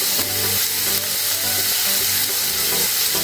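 Chilli powder, salt and spices sauté in a pan for sambar, giving a loud, steady sizzle with a rhythmic scraping stir about every half second, close up.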